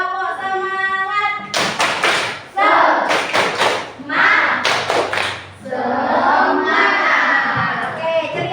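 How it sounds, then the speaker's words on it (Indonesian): A class of pupils performs the tepuk semangat clapping chant, with bursts of rhythmic clapping and loud group shouting in close succession and a teacher's voice heard briefly beforehand. "Tepuk semangat dulu."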